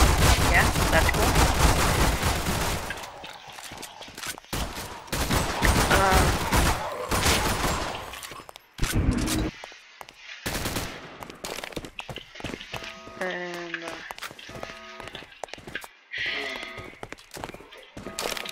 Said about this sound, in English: Firing. Low ammo. I love the Glock 18.